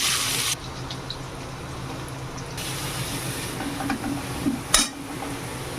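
Chopped onion hits hot mustard oil in a wok with a loud burst of hiss, then settles into a steady, moderately loud sizzle with a brief clatter near the end.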